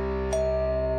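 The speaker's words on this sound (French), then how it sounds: "c'est la sonnette qui fait un nouveau bruit de sonnette" A single electronic doorbell chime sounds once, changing tone partway, over a steady background hum.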